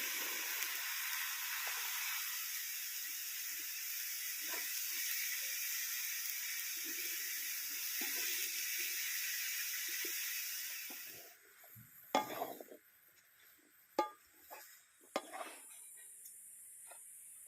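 Water lily stems hit a hot pan with prawns, and a steady loud sizzle plays for several seconds before dropping away. Clinks and stirring knocks from a utensil follow.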